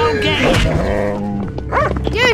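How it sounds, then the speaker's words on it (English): A dog yelps and whimpers after being jump kicked in a video game, with short canine cries mixed among growly game sounds while a voice talks over the top. "Dude, he just jump kicked that dog."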